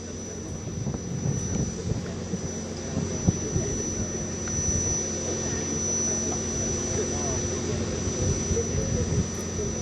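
A Rafale fighter jet at Ambala air base produces a steady, distant jet-engine roar with a constant tonal hum, continuing evenly with only slight swells throughout.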